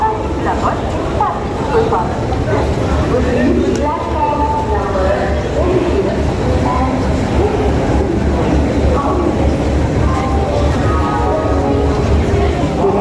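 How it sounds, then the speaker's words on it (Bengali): At a busy station, the Howrah–Tarakeswar local sits with a continuous low rumble and mechanical drone, while crowd chatter and voices of people returning from Tarakeswar run over it. "ট্রেনটা কিন্তু অলরেডি দিয়ে দিয়েছে এই ট্রেনটা করেই যাব তারকেশ্বর"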